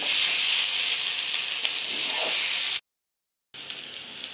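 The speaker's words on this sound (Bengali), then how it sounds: "ভেজে রাখা আলুর সঙ্গে মশলাগুলোকে ভালো করে আমি ভেজে নেব।" Fried potatoes and spices sizzle steadily in oil in a pan for aloo dum, a broad close hiss that cuts out briefly near the end and then resumes.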